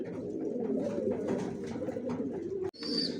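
Racing pigeons coo continuously in a loft, a close, low, rolling murmur from several birds, with a short sharp knock near the end.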